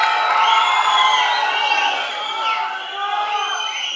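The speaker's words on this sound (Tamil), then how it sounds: "Please, ஒரு பெரிய கைத்தட்டல்." Crowd at a film pre-release event cheering and whooping loudly and continuously, with shouts rising above the roar and applause mixed in throughout.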